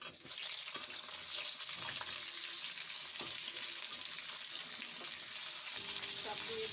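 Chopped vegetables for shukto frying in hot oil and being stirred, a steady close hiss of sizzling throughout with occasional scraping of the spatula against the pan.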